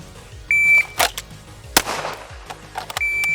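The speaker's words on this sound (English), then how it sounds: "we're gonna shoot it for time, for speed" On a shooting range, a shot timer gives a shrill electronic beep, then pistol shots crack sharply at a target, loud and close, each with a brief echo. A second beep follows near the end.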